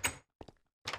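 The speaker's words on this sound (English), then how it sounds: "I hear doors." Doors in the Minecraft video game clunk open and shut in two bursts, one at the start and one at the end, with a fainter pair of thuds in between, all fairly quiet and with no talking.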